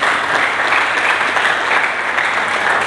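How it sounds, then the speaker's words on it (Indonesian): A church congregation applauds during a sermon, a loud, close, sustained wash of many hands clapping at once, steady from start to finish. "Mari kita berikan tepuk tangan bagi Yesus Kristus"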